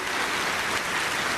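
Church congregation clapping, a dense, steady wash of applause from many hands that fills the whole short moment at a constant level, with no voices over it.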